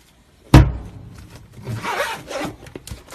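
A zipper on a repurposed cigar box, made into a necklace box, is pulled in one sharp close rasp, then slides again in softer drawn-out strokes.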